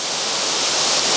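Heavy, fast-flowing water at the Llanrwst waterfall in Wales, a loud, dense, continuous rushing roar close by with no voices.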